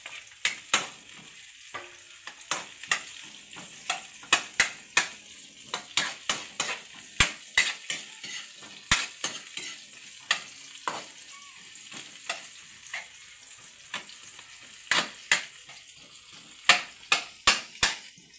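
Kabya shellfish sauté in a pan with chili and onion, making a low sizzle broken by frequent sharp clacks and knocks as the shells are stirred and tossed against the metal.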